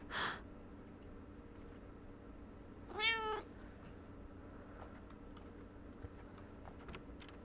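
A cat meows once in The Kidnap video game, a clear drawn-out call standing alone over quiet ambient game noise with a few faint ticks.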